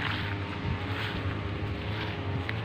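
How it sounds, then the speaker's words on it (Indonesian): A motorized grass cutter clears weeds under avocado, durian and guava trees in an orchard, giving a continuous loud engine whine with a rough, windy edge that runs without a break for the whole stretch. "Ini sedang dilakukan pembersihan ya sama mesin pemotong rumput."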